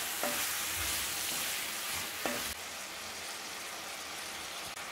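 Radish pieces sautéing in a pan with chilli powder and salt for sambar, a soft steady sizzle with a couple of light utensil taps, close but fairly quiet, no speech.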